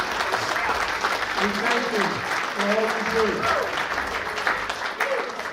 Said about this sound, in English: can you please stand up and give them your due applause?